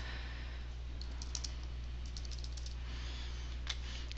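Light, quick keystrokes tapped on a computer keyboard in short clusters over a steady low electrical hum, close and fairly soft.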